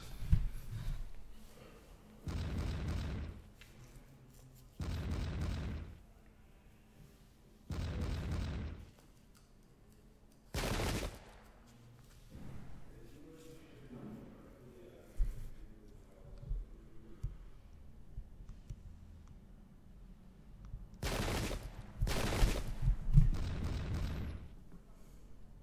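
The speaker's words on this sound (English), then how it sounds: "So a little cannonball just went through our brigade there" Cannon and musket volleys ring out in a Pike and Shot Campaigns battle at Bemis Heights during the American Revolutionary War. About eight heavy booms arrive in irregular bursts over half a minute, with quieter crackling gaps between them, the final shots coming close together.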